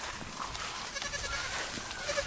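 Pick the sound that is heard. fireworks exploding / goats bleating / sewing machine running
goats bleating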